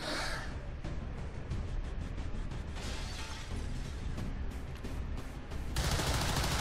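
Rapid bursts of video game gunfire as soldiers fire at a sectoid in modded XCOM 2. The shots are loud and dense, overlapping with impact effects and ending in a sharp, bright burst.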